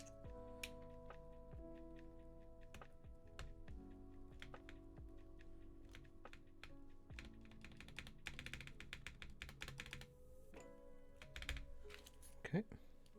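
Mechanical keyboard fitted with Creamsicle switches and SPRiT 68g springs, typed on close up in quick irregular bursts of clacks with occasional heavier spacebar thuds, soft background hum beneath.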